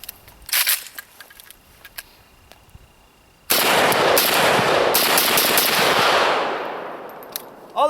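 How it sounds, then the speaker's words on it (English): An AK-47 rifle with sand packed in its action makes a few sharp metallic clicks and rattles, then a sudden loud blast of noise that holds for about three seconds before tapering off, close to the microphone. "And now if we recharge the gun,"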